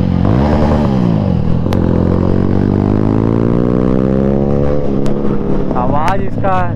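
A Kawasaki motorcycle, part of a group of Ninja sport bikes, revs loudly and continuously with rising and falling engine pitch, punctuated by a few sharp backfire pops near the end.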